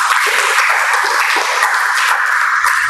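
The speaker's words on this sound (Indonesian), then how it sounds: "Tepuk tangan." Church congregation applauding together at a Papua gospel anniversary service, a dense, steady wash of clapping hands that holds loud and even throughout with no pause.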